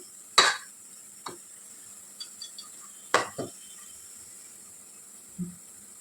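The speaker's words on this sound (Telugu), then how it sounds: "ఇప్పుడు ఇందులో నుంచి సగం ఆనియన్స్ మనం ఇలా కొద్దిగా తీసి పక్కన పెట్టేసుకుందాం" A utensil scrapes and scoops fried onions from a pan during biryani cooking, giving a few sharp metallic clinks and scrapes separated by quiet gaps over a faint background sizzle.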